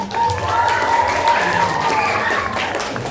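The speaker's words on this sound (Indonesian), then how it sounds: "Bapak Ibu beri tepuk tangan buat Bu Vina dong." Parents and children at a school lesson-study event applaud their teacher, steady crowd clapping with a faint tone running underneath and light murmuring voices.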